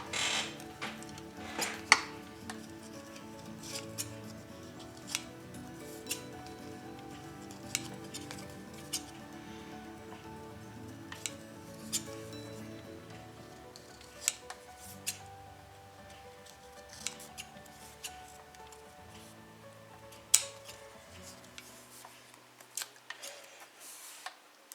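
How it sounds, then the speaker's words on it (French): Scissors snip paper for a transparent scrapbook card in a string of sharp, close clicks and cuts at an irregular pace, fairly quiet against a faint steady hum, with no talking. "Alors je vais couper un petit peu parce que ça me fait des petites peluches."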